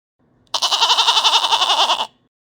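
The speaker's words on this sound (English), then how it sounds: "goat" A goat bleats once with a rapid, quavering tremble lasting about a second and a half, loud, close and isolated against silence.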